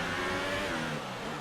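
An F1 car engine in F1 2018 at the Singapore Grand Prix whines and revs at a steady pitch. The pitch shifts slightly as the car accelerates, with no talking over it.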